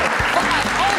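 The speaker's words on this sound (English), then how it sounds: "There's a lot of hooting and hollering and applause." Audience applause and cheering at an industry conference, a steady dense wash of clapping filling the whole moment, close and loud.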